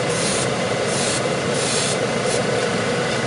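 A Patriot 105 spray gun lays primer onto a model Ork battle wagon. It makes a loud, steady airy hiss throughout, with slight surges as the trigger is worked.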